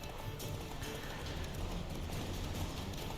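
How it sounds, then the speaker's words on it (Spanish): Horse hooves galloping in The Witcher 3, a steady dense drumming of hoofbeats running continuously under game ambience, fairly loud and close throughout. "Por suerte los caballos corren más."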